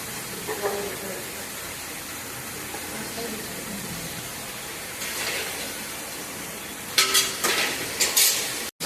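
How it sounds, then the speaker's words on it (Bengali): Bay leaf and panch phoron hit hot oil for tempering, giving faint crackles and then sharp spitting sizzle bursts near the end, with a voice speaking intermittently in the background. "তেজপাতা ফোড়ন দেওয়া হলো, পাঁচফোড়ন,"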